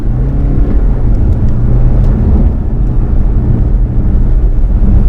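A BMW car pulls away and drives along country lanes, its engine giving a steady, loud low drone with faint whirring tones holding throughout, with no speech.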